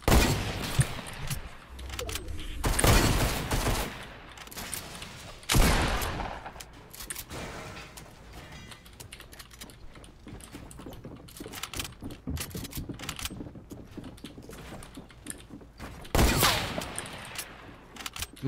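Hunting rifles fire in a video game as several loud, separate shots spaced a few seconds apart, set over a quieter bed of game noise and clicking.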